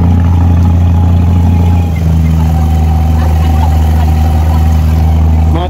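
The engine of a one-dirham abra water taxi on Dubai Creek drones loud and near, a steady low idle with a deep hum that holds without a break.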